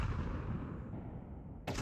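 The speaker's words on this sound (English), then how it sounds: "Nice nade on Kinky as well towards mid" An HE grenade detonates during a Counter-Strike esports match, a heavy, booming blast whose rumble sustains and decays over almost two seconds before a sharp cutoff.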